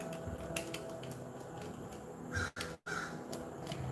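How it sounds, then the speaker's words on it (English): Crows caw outside a house door, the calls coming from nearby over a steady background hum, with a couple of louder bursts near the end. "That's a crow right outside my door."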